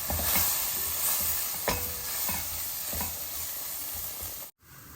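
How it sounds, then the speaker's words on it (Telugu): Ginger-garlic and onion paste sizzles in a steel pressure cooker for chicken fry, with a steady hiss and several spoon scrapes at a regular rhythm. It is close and clear, with a brief dropout near the end. "మంచిగా తిప్పుకుంటూ అడుగంటకుండా అల్లం వెల్లుల్లిపాయ పేస్ట్ ఉల్లిపాయ పేస్ట్ బాగా వేగేలాగా వేయించుకుందాం"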